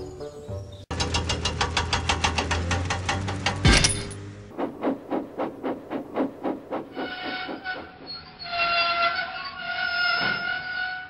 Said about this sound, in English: There was Gordon, being pulled by a diesel